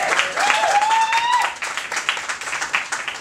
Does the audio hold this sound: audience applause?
yes